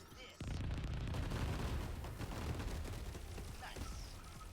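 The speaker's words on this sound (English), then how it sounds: "all those explosions popping off, it sounds like a fucking fireworks show" A barrage of explosions pops off in battle in the video game 13 Sentinels: Aegis Rim, with dense overlapping booms and crackles rolling continuously like fireworks, loud from start to finish.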